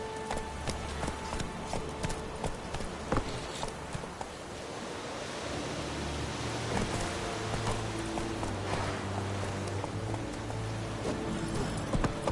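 Horse hooves gallop along in The Witcher 3 with rapid, rolling thuds under a wash of wind-like ambient noise, steady and moderately loud across the stretch.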